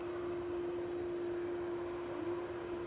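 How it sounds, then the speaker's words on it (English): Steady, continuous drone of a Boeing 767-300 jet airliner at Edinburgh airport, moderately distant and even in level, with a sustained tonal hum throughout and no talk. "Good old Smoky Joe 767-300."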